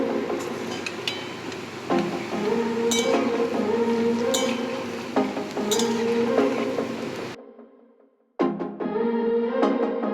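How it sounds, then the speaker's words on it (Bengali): Palm fritters frying in hot oil in a pan, stirred now and then, with a steady sizzle, scrapes and utensil clinks against the pan, a brief near-silent gap, then the frying resumes. "বড়াগুলোকে মাঝে মধ্যেই একটু নাড়াচাড়া করে নিতে হবে"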